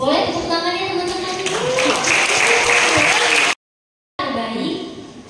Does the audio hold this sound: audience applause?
yes